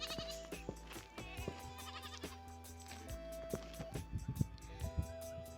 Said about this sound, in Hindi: ये देखो यहाँ ऊपर हमारी सारी बकरी है और बकरे हैं